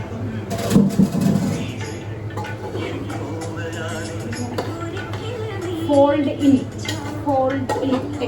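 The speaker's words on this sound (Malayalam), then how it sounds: "ഫോൾഡ് ഇൻ ടെക്നിക്കിൽ വേണം നമ്മൾ ഇളക്കാൻ" Chicken biryani is folded and stirred in a pot, with metal utensils scraping and clinking against the pot in irregular bursts beneath ongoing talk.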